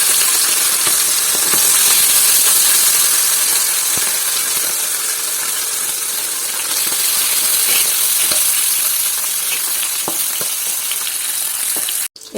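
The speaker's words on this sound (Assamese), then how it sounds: "তেলখিনি গৰম হৈ গ'ল মাছখিনি এতিয়া ভাজি লওঁ ভালকৈ" Fish frying in hot oil in a wok give a loud, steady sizzle with faint clicks, lasting almost to the end before a sudden drop, and no voices.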